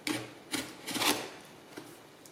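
A knife cuts open the cardboard packaging of an HP Stream laptop box, making a few short, close, faint scraping and ripping strokes with no talk.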